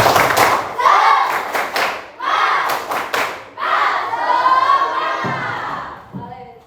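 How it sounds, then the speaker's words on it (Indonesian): A group performs a rhythmic spirit clap, tepuk semangat, in a training session: bursts of synchronized clapping and thumps in patterned sets, mixed with lively voices and shouting. "Tepuk semangat."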